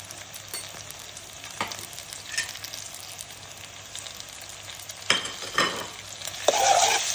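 Curry leaves, coriander, tomatoes, turmeric and ginger-garlic paste sizzle in a pan for a brinjal masala curry, with intermittent stirring scrapes and a louder burst of frying near the end, and no voices.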